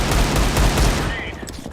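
Rapid bursts of gunfire from a Counter-Strike esports match, several sharp shots in quick succession up close, fading toward the end as a voice speaks faintly underneath.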